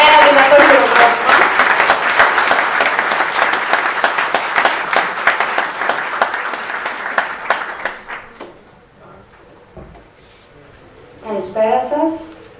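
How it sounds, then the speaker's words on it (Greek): A large crowd applauds loudly and steadily at a Greek election campaign event. The applause fades out over several seconds, and then a voice begins speaking. "ένα δυνατό χειροκρότημα"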